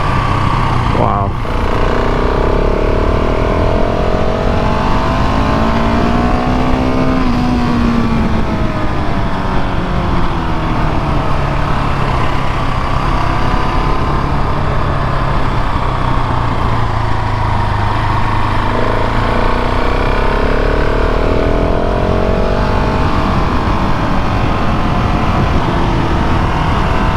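A KTM 690 SMCR motorcycle ridden on brand new tires: a steady, loud engine drone runs throughout, its pitch sweeping up and down as the rider works through the revs.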